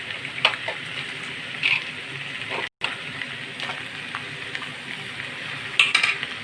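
Runner beans, aubergine and split green chillies are stirred in a frying pan, with soft scraping and light sizzling, a few sharper clinks of the spoon against the pan, and no talking.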